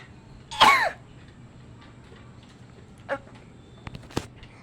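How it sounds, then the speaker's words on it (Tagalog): A single loud, harsh cough burst near the start, then quiet with a few faint clicks and a short throat sound. "medyo po inuubo kasi may na-stuck po siya"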